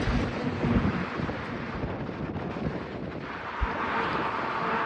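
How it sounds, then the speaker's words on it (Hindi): A strong storm wind blows through trees in Leh, Ladakh, a steady rushing gust with low rumbling buffets, moderately loud and continuous with no talking. "लेह में तूफ़ान आता है तो ऐसे हवा चलती है, बहुत तेज़ हवा चल रही है।"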